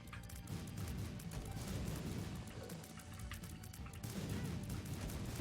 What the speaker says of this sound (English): He jumps. He drops explosions.